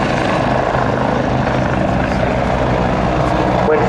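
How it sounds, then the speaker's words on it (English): A Rolls-Royce Nimbus 103 turboshaft helicopter roars steadily and loudly at an airshow, its dense continuous rotor and engine noise filling the scene without letup. "powered by a Rolls-Royce Nimbus 103 turboshaft engine"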